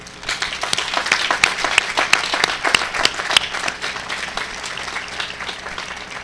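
Commencement audience applauding graduates, a sustained round of clapping with distinct sharp claps standing out, swelling and then gradually thinning toward the end.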